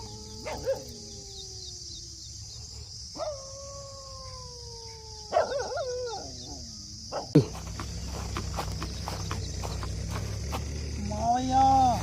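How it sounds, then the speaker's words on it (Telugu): Dogs at an outdoor fishing spot give several drawn-out howls and whines, fairly near, over a steady chirp of crickets and some background noise. "కుక్కలు"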